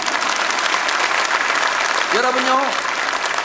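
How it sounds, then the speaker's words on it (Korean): Audience applause fills a church lecture hall at a world mission conference, steady dense clapping throughout, with a voice briefly speaking over it near the end. "할렐루야 다시 한 박수 보내주십시오"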